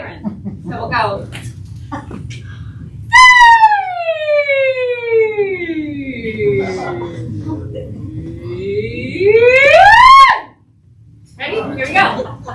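Voices imitate a siren, sliding from high down to low and back up again in one long sweeping glide, loud and close, with brief breathy sounds around it.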